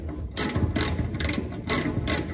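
A hand ratchet undoes the screws holding the drive shaft on an Ape 50 during an engine overhaul, giving four close, loud bursts of rapid clicking in a steady back-and-forth rhythm with no talking.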